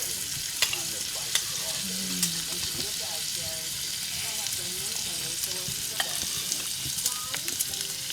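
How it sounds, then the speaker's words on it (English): Steady crackling sizzle of scallops frying in garlic butter in a pan, with occasional scraping and stirring taps, close and continuous, no talking. "The buttery sizzling scallops with butter, garlic butter."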